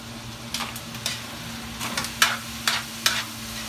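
Dinuguan, a Filipino pork blood stew, being sautéed in a pan, a low steady sizzle broken by a series of sharp scraping clicks from a stirring utensil, close and with no voices.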